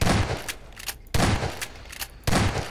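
Three loud bursts of gunfire in a GMOD horror map, each a sharp broadband blast with a short decaying tail, spaced roughly a second apart with quieter ambience between, no talking.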